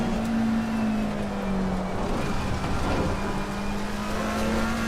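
Race car engine in a sim racing game, a continuous loud drone with a steady held pitch and no pauses or talk.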